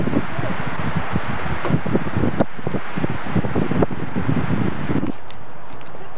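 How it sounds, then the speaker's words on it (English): Wind blowing at Mogollon Rim Vista in Arizona, buffeting a nearby microphone in gusty rushes and rustles, loud and close, with fainter murmured talk underneath. "Oh, that feels so good, that wind blowing up there."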